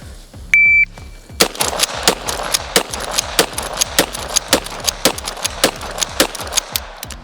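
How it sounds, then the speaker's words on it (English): A lever-action rifle is fired rapidly against a shot timer: one sharp electronic beep, then nine quick, loud, cracking shots with the metallic clack of the lever cycling between them, all close to the microphone. "Let's see how fast I can shoot this thing."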